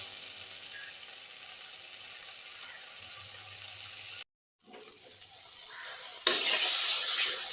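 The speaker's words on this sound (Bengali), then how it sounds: "এইভাবে টমেটোর সঙ্গে সর্ষের পোস্তর পেস্টটা একটুখানি ভাজা ভাজা করছি।" Tomato fried with a paste of mustard and poppy seeds gives a faint, soft sizzle that breaks off briefly, then swells into a louder, brighter hiss near the end, with no talking heard.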